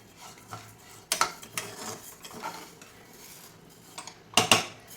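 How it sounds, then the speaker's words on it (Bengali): Moong dal is dry-roasted in a hot kadai, with scraping spatula strokes and metallic clinks against the pan coming in sharp bursts, loudest near the start and again toward the end. "কড়াটা গরম হয়ে গেছে ডালগুলোকে ভেজে নিচ্ছি হালকা করেই ভাজবো"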